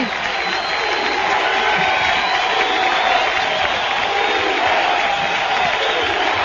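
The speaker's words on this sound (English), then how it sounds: "So the defense will try to get the crowd back up." Crowd at a 2007 college football game, The Citadel at Georgia Southern, sends up a sustained wash of cheering and noise across the stadium, steady and broad throughout.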